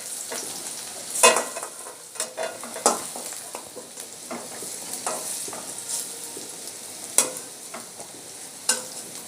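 Potatoes fried in a little oil with salt and turmeric are stirred in the pan, with a soft continuous sizzle and repeated scraping clatters of the spatula as they are lifted out.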